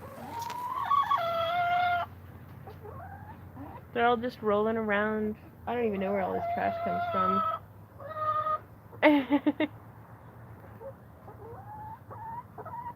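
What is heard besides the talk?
backyard chickens clucking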